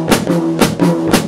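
A high drum, a tom, is struck in a 6/8 Latin pattern on a jazz drum kit, giving loud, close, resonant hits in a lilting triple rhythm with no talking over them.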